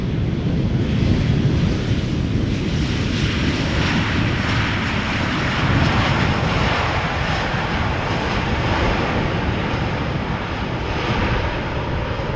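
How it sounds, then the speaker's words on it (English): An Embraer E2 airliner arrives at Amsterdam Schiphol Airport, its jet engine roar loud and steady throughout with a broad rushing rumble and some wind buffeting on the microphone. "Okay, E2 Embraer arriving from Stockholm,"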